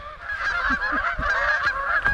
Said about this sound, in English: Actually, that should be Canada geese.